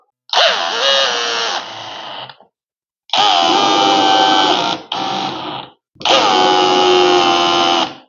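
A power drill drives screws through gate hinges into a wooden post in four loud, close bursts, each a steady whine lasting one to two seconds, separated by short silent pauses.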